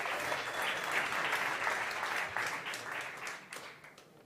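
An audience at a startup competition on energy and sustainability applauds a founder walking on stage. The clapping is dense and steady and thins out toward the end.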